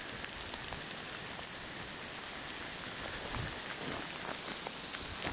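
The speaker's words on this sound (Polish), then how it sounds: "Ahoj przygodo, wali gradem." Hail pelts down steadily during a hailstorm in a forest ravine, a dense, continuous hiss of small strikes with scattered sharper ticks throughout, and no voices.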